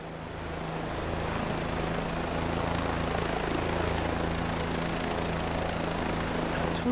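A helicopter's rotor thrum and turbine whine in Microsoft Flight Simulator 2020 build quickly, then hold steady and loud throughout.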